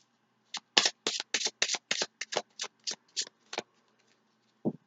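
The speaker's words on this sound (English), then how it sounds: "Give it 3 shuffles." A deck of tarot cards is riffled and shuffled up close, giving a rapid run of about a dozen crisp, papery flutters and snaps that trail off, quiet and alone.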